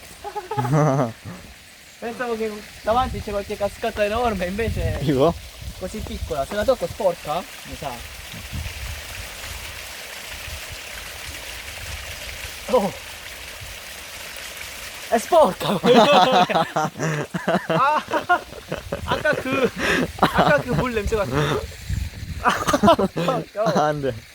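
A steady rush of flowing water fills a quiet stretch between bursts of people talking close by.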